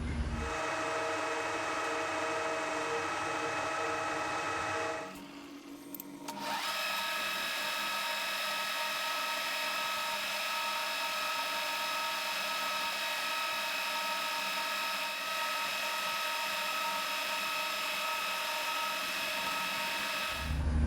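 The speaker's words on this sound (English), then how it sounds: "4mm drill, and poke a hole in" A steady, loud whine of a power drill running continuously with a 4mm bit, drilling a hole, with a brief dip in pitch partway through before it resumes.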